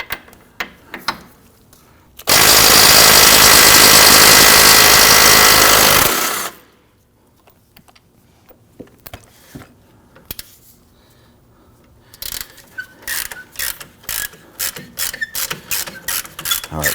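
A 21mm socket on a power tool loosens the rear suspension knuckle nut of a 2005-2010 Chrysler 300: a loud, steady four-second mechanical whir, then quiet, then a run of sharp, rapid clicks as the bolt spins out.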